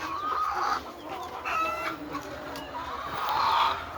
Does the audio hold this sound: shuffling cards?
no